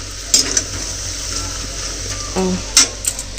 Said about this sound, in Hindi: हाँ तो तीवर अभी पनीर ला फ्राई करा था थोड़ा सा